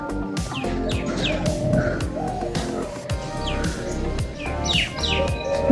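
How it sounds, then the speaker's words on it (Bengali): Morning birdsong from bulbuls, parakeets and mynas in coconut palms at sunrise in a village: dense, overlapping chirps and whistled calls, continuous and fairly close, with a faint roosterlike cluck mixed in and no talking. "চারিদিকে কেমন পক পাখালি ডাকছে কত সুন্দর পাখির আওয়াজ"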